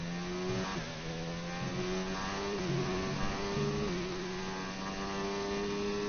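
An F1 car engine in F1 2019, lapping the China circuit in career mode, holds a high, steady whine that dips slightly as the driver lifts, then pulls back up, with no voices.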